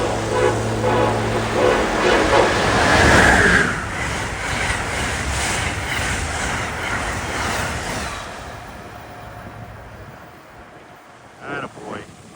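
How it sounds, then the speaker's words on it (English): Amtrak train 152, Washington to Boston, rushes through Princeton Junction, NJ, as a loud steady roar and rumble that fades over about ten seconds, followed by faint clicks near the end. "approaching at 11:03 is train 152, Washington-Boston"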